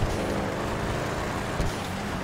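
A Sabre Turbo muscle car from GTA Online, drifting through traffic and snow, gives a steady, loud engine rumble that fills the short stretch without a break.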